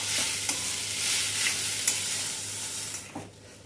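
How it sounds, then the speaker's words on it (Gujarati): Cooked rice is stirred into a hot spice tempering in a pan: a steady soft sizzle under repeated scraping strokes of the spoon, with a few sharper clicks, and no talking. "આ રીતે વઘાર સાથે ભાતને બરાબર મિક્સ કરી લેવાના"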